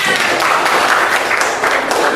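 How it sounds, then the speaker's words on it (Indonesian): A classroom of students bursts into continuous applause, a thick, loud wash of many hands clapping together close by for the whole short stretch. "Tepuk tangan."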